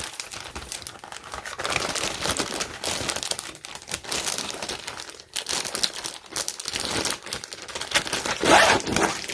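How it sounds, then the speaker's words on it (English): Close, crisp crinkling of a Ziploc plastic bag being handled while plant pots are unboxed, with irregular rustles and crackles rising and falling in bursts throughout and no talk. "Oh, this is a Ziploc bag."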